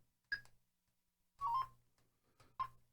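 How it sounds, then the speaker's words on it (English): A few short electronic beep tones in quick succession from a TIDRADIO H3 two-way radio's roger beep, separated by brief gaps, with no talking. "that's actually under the Roger beep tone 2"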